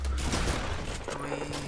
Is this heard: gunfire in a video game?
yes